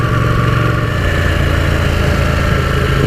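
A Ducati Panigale motorcycle engine idles steadily and close, with a continuous low rumble that holds at an even, unbroken level throughout.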